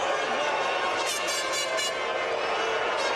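Crowd at Indianapolis reacting unhappily at the 2005 US Grand Prix, a steady roar of booing and jeering with bursts of whistling, dense and continuous throughout.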